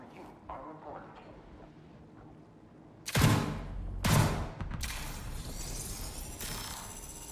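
Pistol fire in the video game Marathon: two sharp loud shots about a second apart, followed by a denser burst of action sounds, all over a murmur of game noise.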